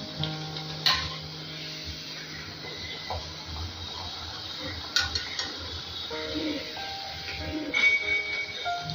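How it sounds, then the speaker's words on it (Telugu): Layered crispy peni pastries fry in oil in a pan, making a soft, steady sizzle with occasional utensil clicks and clinks as they are turned. "ఇలా రెండు వైపులా టర్న్ చేసుకుంటూ ఇలా మంచి కలర్ వచ్చేంత వరకు ఫ్రై చేసుకోవాలి"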